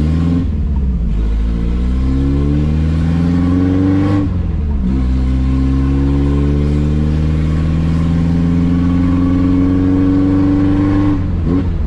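A Chevrolet Chevette with a naturally aspirated engine revs loudly and repeatedly at night, pitch climbing through the gears, dropping sharply between pulls, close and continuous.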